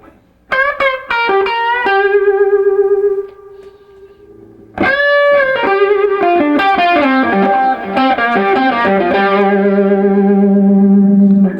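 Stratocaster electric guitar played through the bridge pickup with the tone control rolled back to 3, a distorted lead with sustained bends and a flowing run of notes, drenched in echo and reverb, loud and alone.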